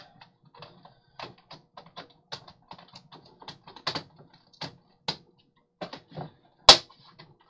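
Plastic laptop parts snap into place during refurbishing of a vintage laptop, a run of close, sharp clicks and taps at irregular intervals ending in one louder crisp snap.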